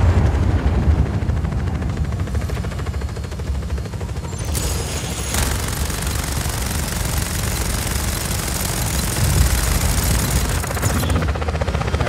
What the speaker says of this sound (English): Helicopter inbound. Heading for you.